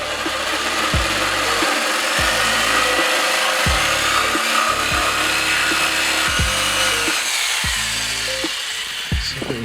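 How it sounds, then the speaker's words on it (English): A jigsaw cuts through wood for a charcuterie board, its motor whining steadily up close with a rapid reciprocating buzz and periodic pulsing shifts as the blade works along the cut. "And what I'm bringing out now is a jigsaw."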